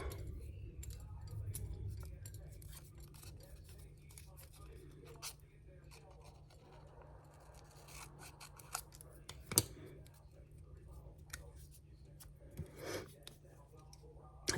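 Scissors snip a few times during paper clip beading, quiet sharp cuts among soft handling rustles and ticks, with low speech in the background.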